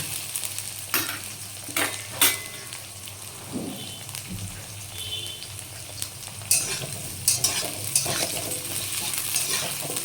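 Potatoes frying in plenty of oil for a vegetarian papaya curry give a steady, close crackling sizzle, broken now and then by sharper pops and stirring scrapes, with no voices.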